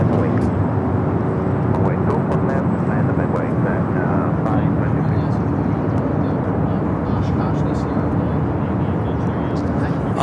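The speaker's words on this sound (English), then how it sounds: "Turkish A350 will be heading for a Southside takeoff on 25 right." A Turkish Airlines Airbus A350 takes off from runway 25 right at Los Angeles International Airport, a loud, steady jet roar that fills the whole stretch without fading.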